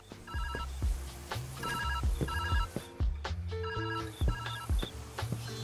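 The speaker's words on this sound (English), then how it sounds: "I'm just gonna let that ring." In the video game Viewfinder, a loud telephone keeps ringing in bright, repeated bursts over a pulsing, thumping in-game music track, with no one speaking.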